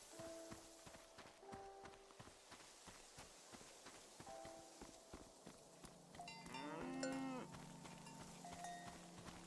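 Cow in the video game Season: A Letter to the Future, lowing moos among clip-clopping hooves and footsteps, with a louder, longer moo close by near the end.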